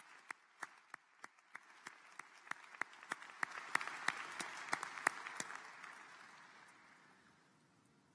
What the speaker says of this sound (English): so they got a bigger applause than I did